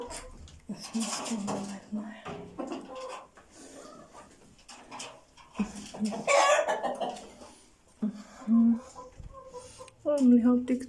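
Chickens cluck in bursts close by, with a rooster crowing mixed in, while people talk intermittently over and between the calls.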